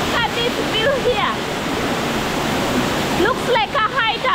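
A waterfall in Kenya roars in a dense, constant wash of falling water close by, while voices talk over it at the start and again near the end.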